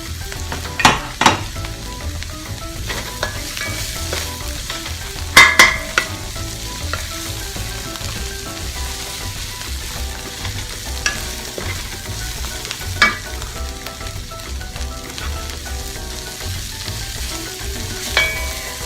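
Onion masala for tawa chicken frying in a pan, a continuous soft sizzle running throughout with scattered sharp clicks and scrapes of stirring, a few louder clusters, and no talking.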